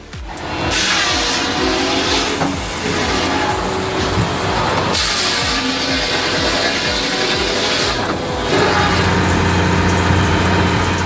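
Firewood processor with a carbide-tipped circular saw and linear hydraulic drive running, a loud continuous mechanical drone with engine hum, shifting in pitch and intensity as sections change, no voices.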